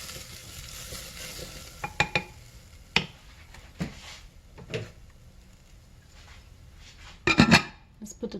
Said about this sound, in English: Quick little stir.